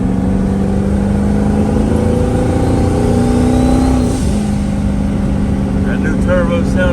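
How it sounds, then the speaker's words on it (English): Turbocharged Ford Mustang Foxbody engine revving loudly up close, a sustained roar whose pitch climbs steadily, then drops sharply and settles, with speech faintly present beneath the engine. "That new turbo sounding good."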